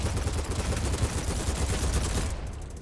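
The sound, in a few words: AK15 rifle firing at a wall in BattleBit Remastered video game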